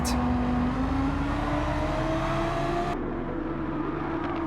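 Engine of a racing car in Gran Turismo 7, a steady close drone rising slowly in pitch as the car accelerates along a straight, then a gear change cuts the upper roar and a smoother hum continues.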